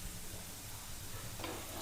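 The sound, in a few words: potatoes frying in a pan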